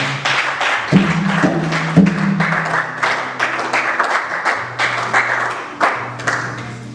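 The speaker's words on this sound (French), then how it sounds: "Est-ce qu'on peut acclamer très fort?" A congregation at a Christian youth debate on marriage applauds loudly, with dense, sustained clapping that fills the whole stretch over steady keyboard tones.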